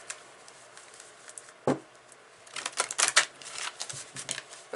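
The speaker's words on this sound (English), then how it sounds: "the riffle shuffling. I think this is what you call it, the riffle shuffling." Tarot cards being riffle shuffled by hand, with a short snap of cards followed by a rapid, close fluttering burst of cards interleaving, fairly soft and with no talking.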